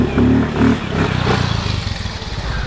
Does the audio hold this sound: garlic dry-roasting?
no